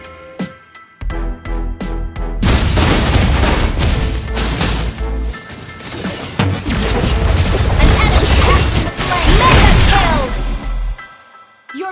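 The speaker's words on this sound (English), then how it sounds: "Your team destroyed a turret!" Loud clustered crashes, booms and impacts from a Mobile Legends ranked match as a turret is destroyed, opening with a few sharp hits and then a dense, sustained barrage of explosions before stopping abruptly.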